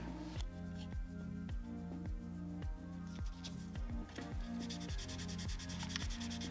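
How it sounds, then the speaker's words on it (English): A sanding pad scuffs the plastic body of a 1/24 scale Salvinos JR NASCAR model car, a close, steady rhythm of quick rubbing strokes repeating about twice a second with no voices. "To ensure a good bond to the body, the area is scuffed up with a sanding pad."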